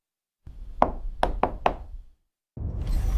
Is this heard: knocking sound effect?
yes